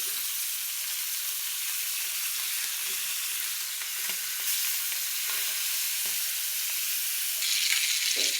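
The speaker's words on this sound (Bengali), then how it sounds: "আমি কড়াইতে তেল দিয়ে দিছি, এখন মাছগুলো দিয়ে দিব" Sea poa fish frying in hot oil in a wok, a continuous bright sizzle with occasional pops and crackles, close and steady with no talk.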